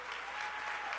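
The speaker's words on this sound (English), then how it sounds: "thank you for the slow clap" An audience in a church sermon gives a slow clap, a brief stretch of continuous hand-clapping spread across the room at moderate loudness.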